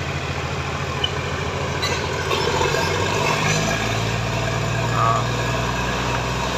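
Heavy machinery lifts a bridge girder at a construction site near the tower clock in Anantapur, giving a continuous engine drone with a low mechanical hum that rises slightly midway. Voices can be heard faintly under the steady noise.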